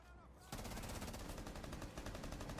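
Automatic weapon fire in the shooter game Rainbow Six Siege starts abruptly after a brief lull, then continues as a loud, dense, unbroken stream of rapid shots.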